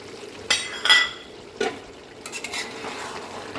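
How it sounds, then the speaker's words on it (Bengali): A spoon stirs rooster chicken curry with potato pieces in a pan, giving a few distinct scraping strokes over a faint, steady frying hiss, close by with no talking. "ভালো করে কষতে হবে।"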